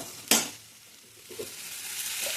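Capsicum sautéed in a pan with onion and tomato for a potato capsicum gravy. A sharp scrape opens the sound, followed by a soft, close sizzle with a few light stirring touches and no talk.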